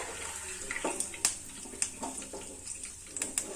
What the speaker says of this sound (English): we're gonna put it directly, the hot Gulab Jamun, directly into the sugar water